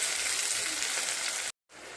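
Sliced onion sizzles steadily in hot oil with whole spices (garam masala, cumin, bay leaves), a close and even frying hiss. It breaks off in a brief silence before resuming.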